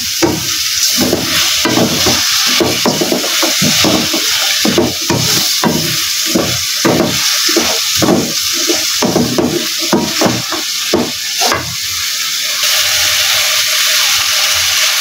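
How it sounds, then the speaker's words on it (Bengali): Potatoes are stirred and sautéed in a pan, with loud, close, rhythmic scraping strokes of a spatula over a steady background sizzle that stops toward the end, leaving a softer hiss. No one speaks. "এখন এই আলুটাকে ভালো করে কষাবো"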